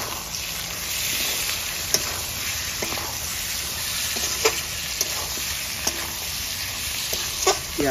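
Mutton frying with onions in oil, with peas added, in a village-style kitchen: a steady close sizzle and hiss runs throughout, broken by scattered light clinks and scrapes of stirring.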